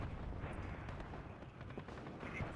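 Mortar artillery fire in the war strategy game WARNO, low rumbling booms and distant impacts rolling together in a faint, continuous barrage with no clear single blasts.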